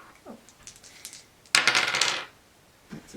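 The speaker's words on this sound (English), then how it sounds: "Shall I roll the dice?" Dice tumbling and clattering across a table during a tabletop role-playing game, a single loud rattling roll lasting under a second, with quiet voices murmuring before it.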